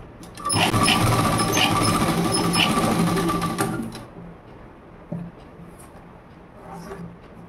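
An electric sewing machine stitches a blouse, a close, steady rapid mechanical whir running for about three and a half seconds before stopping abruptly, followed by faint handling taps.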